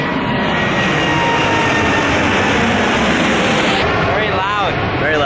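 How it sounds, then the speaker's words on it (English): An airplane passes low over a beach, a loud, steady roaring drone that fills the whole clip, with a brief rising whine and a change in tone near the end as it moves away. "Look at this plane."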